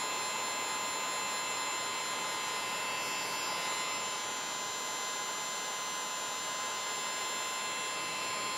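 Constant blowing roar of a heat gun shrinking heat-shrink tubing over a soldered wire joint, steady and close with a faint whine on top, unbroken throughout and without speech.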